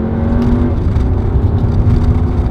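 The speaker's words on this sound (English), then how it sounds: "This motor doesn't, I'm telling you, the same motor that's in my GTI" A 2019 Volkswagen Arteon engine sounding loud and close, a continuous throaty drone with a whirring tone that holds steady as the car pulls, no voices over it.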